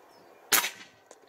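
A single sharp crack from a Hatsan Hercules Bully .25 PCP air rifle fired outdoors at a target 82 metres away, followed by a faint distant impact knock about half a second later.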